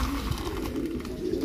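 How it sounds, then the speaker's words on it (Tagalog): Low pigeon coos murmur continuously over a busy outdoor background, several birds close by and no one speaking. "Ito may magulong na ibon na rito eh"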